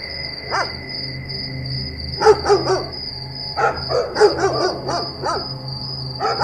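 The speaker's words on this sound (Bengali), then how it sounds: "কুকুর ঘেউ ঘেউ করে ওঠে" A dog barks in scattered bursts of several sharp barks, moderately close, over a steady chorus of chirping insects.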